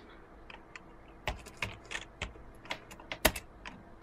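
A computer keyboard clicks as a Linux command is typed, with irregular, crisp keystrokes close up, some in quick bursts and a louder tap near the end, in a quiet room.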